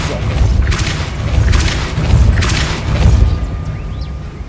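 A Depulso spell cast in Hogwarts Legacy lands as a series of deep booming thumps with rumbling low impacts, spaced roughly a second apart over sustained game ambience.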